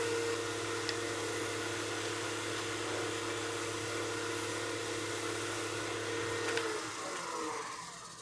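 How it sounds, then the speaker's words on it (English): A walnut wooden hat spinning on a lathe as sanding sealer is buffed dry, a steady, faint motor hum with soft rubbing friction that eases off toward the end. "Now I can just buff dry the hat."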